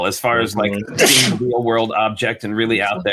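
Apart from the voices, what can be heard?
sneeze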